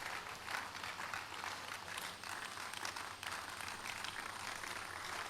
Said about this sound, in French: Give the Lord a big hand of praise.